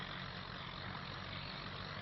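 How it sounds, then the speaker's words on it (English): A tractor engine drones steadily while pulling a plough in Farming Simulator 25, a low, continuous rumble at an even level with no pauses. "Been a good old tractor on the plough so far this year."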